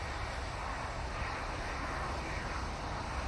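An airliner climbs away on takeoff from the runway at Manchester Airport, a steady, fairly distant broadband engine roar with low rumble holding evenly throughout, no voices.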